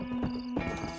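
A horse in the video game Red Dead Redemption gives a short, close, loud whinny with snorting, the pitch breaking partway through.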